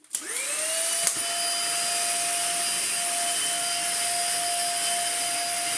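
A Dyson DC50 Small Ball vacuum cleaner whirs up to a steady, close, high-pitched whine with a tonal motor hum while running over carpet, with a brief knock near the start.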